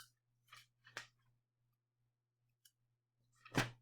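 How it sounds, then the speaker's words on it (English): Several quiet page turns in a book, short papery rustles and flips separated by pauses, with one louder, closer flip at the end over a faint steady hum, no voices. "I gotta get to the right page in my book"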